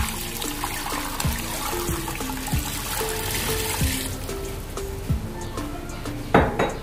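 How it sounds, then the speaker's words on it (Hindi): Water streams steadily into a metal pot for cooking goat trotter curry, a continuous splashing trickle with occasional clinks of cookware, heard close up with no talking. "और तकरीबन 8 गिलास के करीब मैं इसमें पानी शामिल करूंगी।"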